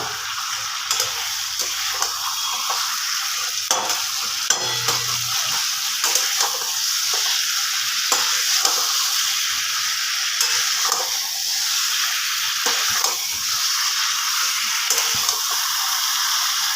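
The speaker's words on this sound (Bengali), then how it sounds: "আর একবার খুন্তি দিয়ে আমি নাড়াচাড়া করে নেব" Steady loud sizzling of chicken frying in a pan, with repeated scraping and clinking as a spatula stirs it; no talking.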